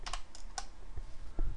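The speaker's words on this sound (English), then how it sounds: "I'm typing in a lot of stuff that looks like ancient Egyptian algebra" Rapid, uneven clatter of keys on a computer keyboard, close and fairly loud, with bursts of clicks and a heavier thump near the end, no voices.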